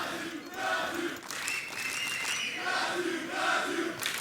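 An arena crowd at an ESL Challenger Melbourne esports match for Counter-Strike roars and chants in loud swelling waves, with cheering and shouts rising and falling throughout.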